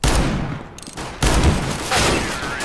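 Revolver gunfire in the video game CS:GO: a few loud close shots with sharp blasts and short ringing tails, spaced unevenly across the moment, with no voices.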